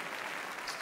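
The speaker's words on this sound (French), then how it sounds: "On les applaudit encore très fort" Dense, steady audience applause at a song performance, a continuous patter of many hands clapping throughout the brief moment, heard at a modest distance with no voices on top.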